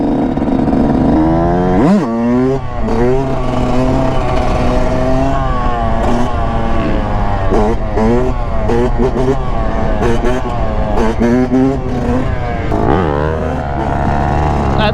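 A dirt bike rides through mud at a lot, its engine revving loudly with rising and falling pitch sweeps throughout, close and dominant, while people talk over it.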